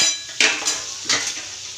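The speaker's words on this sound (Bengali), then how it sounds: "পনিরটাকে একটু তেলে নেড়ে নিচ্ছি।" Paneer cubes turned in hot oil in a small pan, a spoon scraping and clinking in a few distinct strokes over a soft sizzle, close and without talk.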